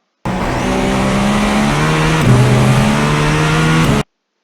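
A GTP prototype race car in iRacing at Sebring accelerates hard out of a corner, its engine note loud and rising, with a brief drop at an upshift before climbing again.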